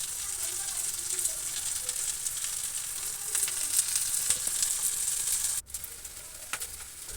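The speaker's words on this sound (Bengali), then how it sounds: "এ পর্যায়ে লবণ পরিমাণ মতো দিয়ে ভেজে নিতে হবে" Prawn malai curry masala with salt and green chilies fries in a pan, a constant bright sizzle with soft stirring scrapes, fairly quiet and steady, broken by a brief dip near the end.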